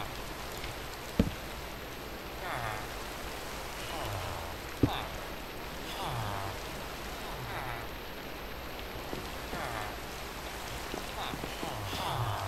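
Steady rain falls in the Minecraft video game, a constant patter with two sharp knocks and sounds from the game in the background.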